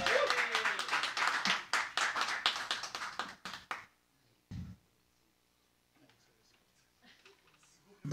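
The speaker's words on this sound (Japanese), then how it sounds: "大きな拍手。" Audience applause at a live band show as a keyboardist is introduced: a dense, loud burst of clapping for about four seconds that stops abruptly, leaving near silence with a few faint stray sounds.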